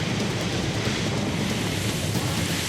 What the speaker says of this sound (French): T'as vu la rafale de vent?